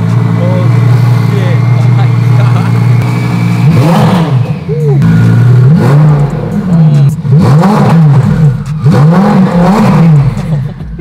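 A loud classic 1991 Lamborghini engine revs repeatedly in rising and falling sweeps, roaring close by over a steady idle, with voices talking over it.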